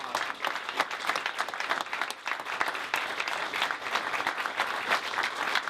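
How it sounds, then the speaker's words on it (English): A sales meeting audience gives sustained applause for new associates, a continuous, dense patter of many hands clapping at a moderate, even level throughout, with no talking. "if we can give them a big round of applause."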